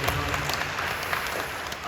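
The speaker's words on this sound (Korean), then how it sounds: "박수로 보내주십시오" A church congregation at a Korean worship service applauds, a loud, continuous wash of many hands clapping throughout, with voices mixed into the crowd.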